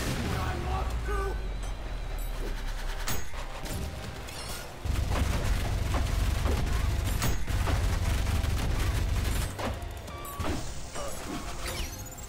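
Shotgun blasts and chaotic combat from the video game Ultrakill, with scattered sharp shots and crashes over a loud, dense wall of music and game noise lasting about twelve seconds.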